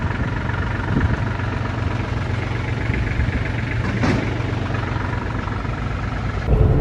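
A Kenworth truck's engine idling at a grain harvest, a steady low rumble with constant vibration heard close up from the cab, with a brief louder clunk near the end.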